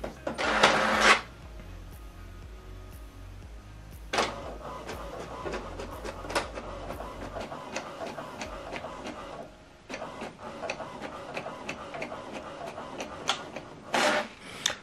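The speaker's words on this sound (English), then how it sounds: "Now this document is printing." An HP Deskjet printer printing a two-page document, with a steady mechanical whir and rhythmic clicking of the carriage and paper feed, punctuated by louder feed bursts at the start, around four seconds and near the end.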